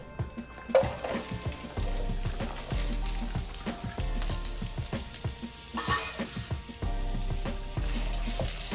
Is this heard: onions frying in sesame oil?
yes